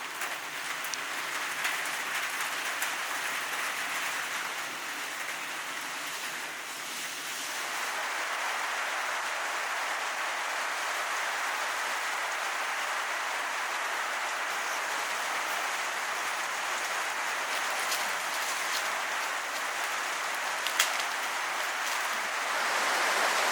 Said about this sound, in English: We can hear the rain now.